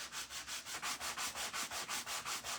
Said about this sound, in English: I will take a sanding block, depending on how it looks, and sand it down a little bit